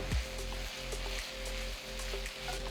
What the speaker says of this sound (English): I'm adding 4 roughly chopped large tomatoes to the pan